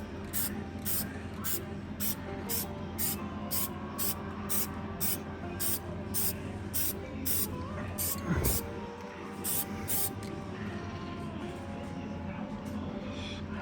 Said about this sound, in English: gonna paint over them, get them looking black like the rest of the rear end.